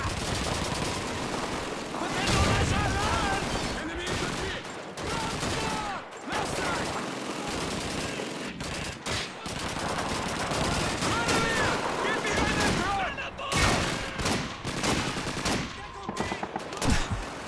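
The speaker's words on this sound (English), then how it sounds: "MG42." MG42 machine gun fire in the video game Call of Duty 2: long dense bursts of rapid automatic gunfire with scattered other shots, loud and continuous with short pauses between bursts, and voices heard among the shooting.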